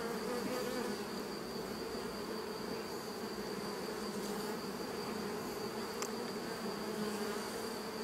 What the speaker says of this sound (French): on a une jeune abeille qui vient de naître